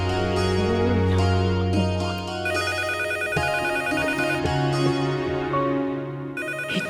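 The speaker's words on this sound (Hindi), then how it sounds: "इतनी सुबह सुबह किसका फोन है?" A telephone rings steadily with a repeating electronic ringtone melody, loud and close, playing alone for several seconds in a home in the early morning.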